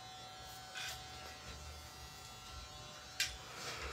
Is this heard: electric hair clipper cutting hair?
yes